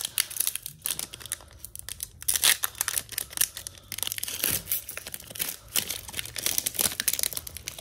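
Crinkly foil wrapper of a Pokémon Shining Fates trading card booster pack is torn open and crumpled, with close, continuous rustling and sharp tearing bursts and no talk.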